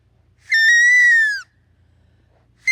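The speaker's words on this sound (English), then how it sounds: "how to whistle with blades of grass" A blade of grass held between the thumbs makes one shrill, reedy whistle lasting about a second, then a second squeal starts right at the end. Outdoors in New Brunswick, with quiet ground noise between the blows.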